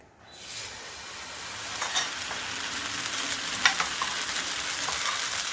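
An oats and semolina uttapam batter sizzles on a hot pan, the hiss and crackle starting abruptly and then holding steady and close, with a few brief louder pops.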